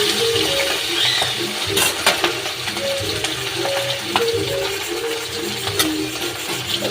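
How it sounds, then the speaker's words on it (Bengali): Pieces of hilsa fish sizzle in hot oil in a pan, a steady crackling fry close by with occasional utensil clinks and no talking. "তেলটা গরম হয়ে গেলে আমি মাছগুলো ছেড়ে দেব।"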